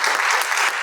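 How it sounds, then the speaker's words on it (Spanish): A live audience at a business podcast event bursts into brief, loud applause, dense overlapping claps filling the whole moment. "Fuertes los aplausos, por favor."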